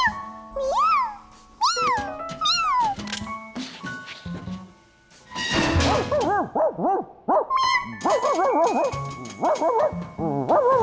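A cartoon dog in an animated children's show yelps and whines in repeated high, wavering cries, loud and close, coming in short bursts with brief pauses.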